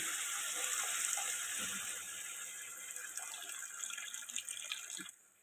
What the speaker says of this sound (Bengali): গরম জল দেবো বন্ধুরা, গরম জল